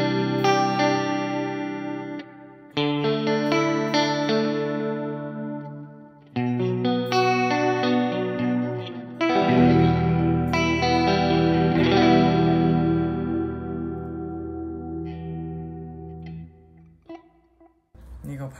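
Clean electric guitar tone from a Line 6 POD HD500X with chorus and delay, played as arpeggiated chords and ringing notes with shimmering echoes, steady and clear throughout.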